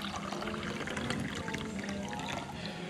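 Water with fresh lemon slices is poured from a carafe into a glass, a steady, close liquid pour that runs continuously against a busy background hum.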